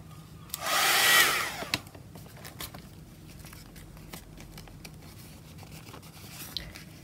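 A handheld hair dryer drying tea bag bleach stamping craft work blows in one loud, steady burst of about a second, then cuts off, leaving quiet room noise with a few small taps.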